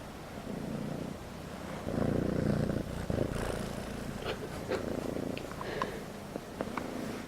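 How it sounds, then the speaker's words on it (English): A kitten purrs up close, a soft, continuous rumbling in steady waves, with a few faint rustles and no talking. "You hear her purr?"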